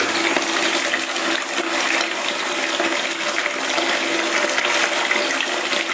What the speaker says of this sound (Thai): เอาไปแช่น้ำอย่างนี้เลยนะครับ